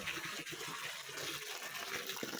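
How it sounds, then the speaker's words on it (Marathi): A water pump motor runs while water gushes and splashes steadily, a dense continuous rushing that fills the whole stretch without pause or speech. "मोटर चालू झाली काय."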